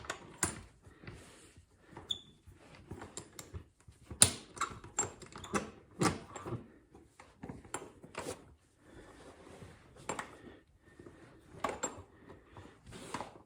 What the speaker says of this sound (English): now we got to tighten up the mounting screws here.